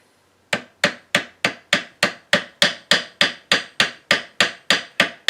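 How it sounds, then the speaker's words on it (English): A small ball peen hammer taps a gasket over screw holes on a Maytag Model M washer, giving about twenty sharp, evenly spaced taps with quick decay, close and alone. "You tap the gasket over the screw holes."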